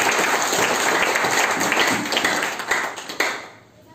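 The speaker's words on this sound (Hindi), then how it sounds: "ताली होनी चाहिए।" An audience at a marketing business meeting claps enthusiastically, dense applause that continues evenly before tapering off with a few last scattered claps.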